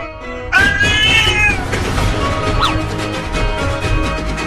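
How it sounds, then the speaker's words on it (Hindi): A cat meows loudly and insistently up close, a drawn-out yowl mixed with a clatter and some background noise. "पकड़ चिंटुआ, वो बिल्ली भाग रही है मेरे हाथ पर काट कर।"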